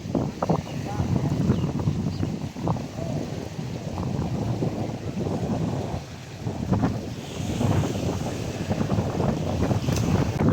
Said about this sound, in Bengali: বাতাসটা খালি দেখেন